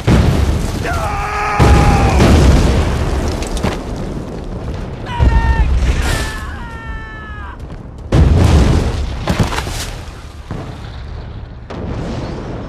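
Artillery barrage explosions hit in several heavy booms spaced a few seconds apart, loud and close, with shouting voices and whistling tones between the blasts.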